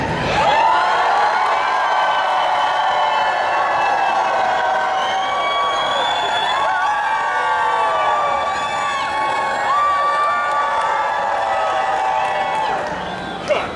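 A convention audience at a comic con cheers, whoops and applauds loudly and steadily for the whole stretch, a dense crowd roar with clapping and shouts that swells briefly near the end.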